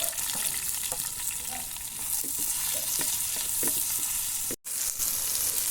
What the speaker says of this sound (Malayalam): അപ്പോൾ എണ്ണ നന്നായി ചൂടായിട്ട് നമുക്ക് ആദ്യമായിട്ട് ഉള്ളി ഇടാം കേട്ടോ.